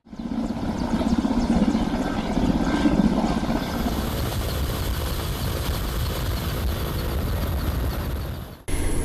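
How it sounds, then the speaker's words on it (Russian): A rescue helicopter hovers about 30 metres above the ground, its rotor and engine roaring in a loud, steady, close drone that cuts off abruptly at the end. "вертолет завис в воздухе на уровне примерно 30 метров над землей"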